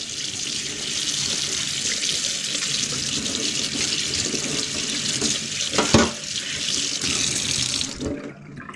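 Tap water runs steadily into a sink as cleaned mackerel fish is rinsed, a continuous close splashing stream with a brief louder splash near the end before the flow cuts off.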